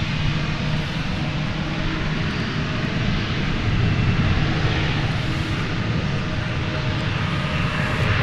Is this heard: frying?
no